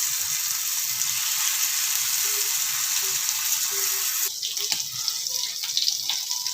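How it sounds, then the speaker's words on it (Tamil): Dried fish fries in hot oil on a flat dosa pan, a loud, constant close hiss of sizzling oil with a few soft pan sounds partway through. "இப்போ வந்து கருவாடு போட்டு வறுத்து எடுத்துடலாம்"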